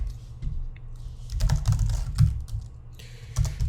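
Someone types code on a computer keyboard, a close, steady run of quick key clicks with a few louder strokes and no talking.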